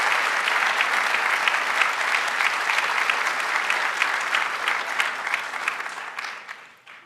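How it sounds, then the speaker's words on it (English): Sustained applause from a large audience at a national awards gala, steady and dense for several seconds before fading out at the end. "Can I have a round of applause for those companies?"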